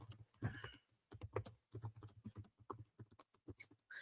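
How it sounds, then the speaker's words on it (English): Fingers type on a computer keyboard in uneven bursts of close, crisp clicks, with short pauses between the flurries. "That is horrible typing."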